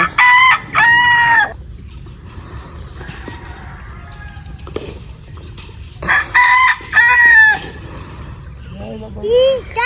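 Gamefowl roosters crow loudly several times in bursts, close by, between quieter clucking and farmyard ambience, with a few softer calls near the end.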